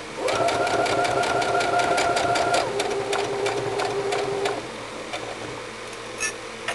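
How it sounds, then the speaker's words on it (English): A sewing machine stitches a martingale dog collar in fast, rapid bursts with a steady whirring motor and quick ticking needle strokes, close up, slowing and stopping near the end. "sometimes my sewing machine takes off 90 miles an hour"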